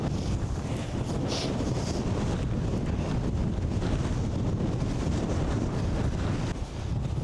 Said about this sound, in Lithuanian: Tiesiog verčia iš kojų tas vėjas.